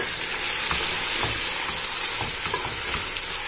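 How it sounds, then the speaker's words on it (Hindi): Onions and mutton sizzle and fry in a pan for Delhi nihari, with steady dense crackle and occasional stirring scrapes, close and fairly loud with no talk. "ये प्याज भी भूनते भूनते इसकी मेल्ट हो जाएगी इसके अंदर"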